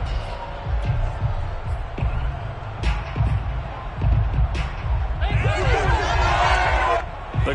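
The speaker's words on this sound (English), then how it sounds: "The crowd here in the Dome making things difficult" Roaring stadium crowd inside the Dome at a Panthers vs Saints football game, a loud sustained wall of noise with scattered thumps and shouts swelling higher toward the end.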